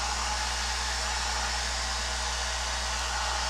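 A hair dryer blows continuously at close range to dry an alcohol ink painting, giving a loud, steady whooshing hiss with a constant motor hum underneath.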